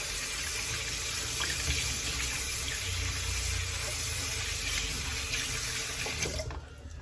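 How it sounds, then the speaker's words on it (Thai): Tap water runs steadily and close by while hands are washed in a home kitchen during preparation of fermented pork, a continuous rushing flow that cuts off just before the end. "ล้างมือก่อน"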